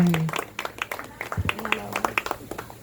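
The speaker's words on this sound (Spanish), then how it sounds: "Dele un buen aplauso al Señor." A church congregation claps in scattered, fairly quiet bursts of individual hand claps, with voices and talk mixed in around them.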